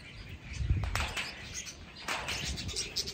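A macaw at a zoo makes a few short, close chirps and squawks, with soft rustling and flapping in between.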